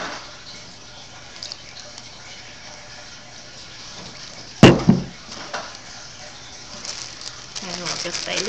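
Water poured into a Ziploc bag holding paint for a classroom chromatography lesson, heard as a sudden close splash and gush after steady low background noise, then fading into soft trickles.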